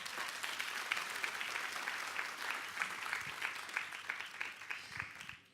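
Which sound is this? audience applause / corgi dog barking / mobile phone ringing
audience applause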